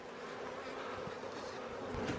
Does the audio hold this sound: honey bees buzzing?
yes